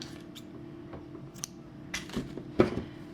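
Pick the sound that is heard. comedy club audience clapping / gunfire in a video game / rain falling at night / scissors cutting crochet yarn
scissors cutting crochet yarn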